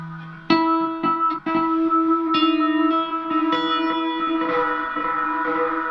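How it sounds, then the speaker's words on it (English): An echo effect on an audio mixer channel makes struck, bell-like tones ring out and repeat, each attack trailing into sustained reverberant decay, clear and fairly quiet. "I'll turn this echo off too."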